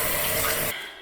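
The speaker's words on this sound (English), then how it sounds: "I'm gonna let this bowl soak in my sink with some water here." Water from a sink tap runs loudly into a bowl as a steady broadband rush, then cuts off abruptly partway through and leaves only a fading trickle.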